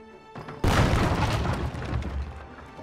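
Grenade explosion in the video game Jagged Alliance 3: a quiet lead-in, then one sudden loud boom with a rumbling, crackling tail that fades slowly.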